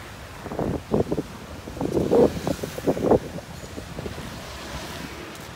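Surf washing onto a beach in Thailand, heard as a steady wash of waves with gusting wind buffeting the microphone and a few louder swells in the middle, no talking.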